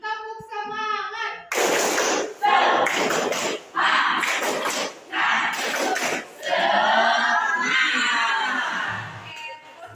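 Pupils in a classroom lesson do the 'tepuk semangat' clap-and-chant routine: a teacher's voice, then loud rhythmic bursts of group clapping and shouted chanting in short sets, close and energetic.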